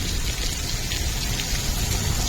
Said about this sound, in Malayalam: മൊത്തം മഴ പെയ്ത് ചാറി പിടുത്തം വിട്ട മഴയാണ്